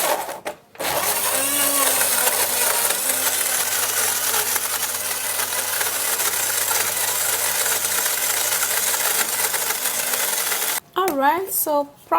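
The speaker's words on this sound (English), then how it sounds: "And I'll also blend it" A countertop blender whirs steadily for about ten seconds while blending a three-ingredient skin-care mixture, loud and continuous, then cuts off, followed by a brief bit of talking.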